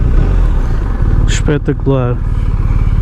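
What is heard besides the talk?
BMW R1250 RT motorcycle engine riding in Dynamic mode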